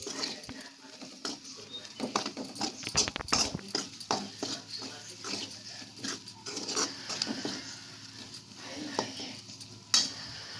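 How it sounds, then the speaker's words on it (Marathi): Red chili powder and garam masala roast in oil while being stirred, a quiet crackling sizzle broken by frequent spatula scrapes and taps against the pan, with a voice speaking at times over it. "त्याला त्यांना मसाले भाजून घेऊया."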